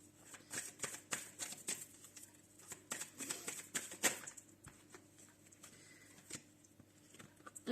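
Oracle cards being shuffled and drawn by hand at close range, a run of quick papery flicks and soft taps in irregular bursts, with no voices.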